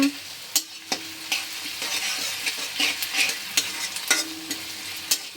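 Salted onions are stirred and fried in a pan, a close, steady sizzle broken by sharp spatula scrapes and knocks against the metal at irregular intervals, with no voices.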